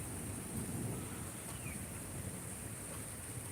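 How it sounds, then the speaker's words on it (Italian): A low, distant rumble of thunder rolling under steady rain hiss and soft wind during an evening thunderstorm, faint and continuous with no voices. "Mamma mia, proprio i fulmini volano qua."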